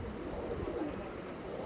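Andhra Mangalagiri Lalsira pigeons coo softly in a loft, a low, murmuring, continuous warble with faint chirps above it and no speech.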